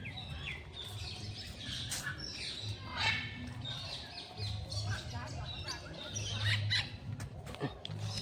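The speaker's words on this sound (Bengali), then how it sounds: "শুনতে পাচ্ছ পাখিদের কলরব" Birds squawk and chirp across a busy soundscape in the Bibhutibhushan wildlife sanctuary, calls overlapping at moderate distance with a steady low hum underneath.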